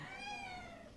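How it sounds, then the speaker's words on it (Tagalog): A neighbor's cat inside a big house gives one drawn-out, fairly faint meow that slowly falls in pitch, heard alone. "That is our neighbor's cat."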